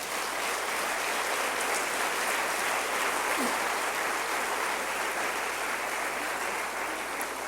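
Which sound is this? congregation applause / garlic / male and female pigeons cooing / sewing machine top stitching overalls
congregation applause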